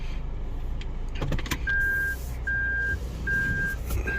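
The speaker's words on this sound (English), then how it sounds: "Now I go into reverse." A Toyota Vios is shifted into reverse, and a few clicks give way to a repeating reversing beep, three evenly spaced tones over a low idling hum inside the car.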